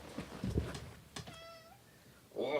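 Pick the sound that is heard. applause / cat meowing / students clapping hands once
cat meowing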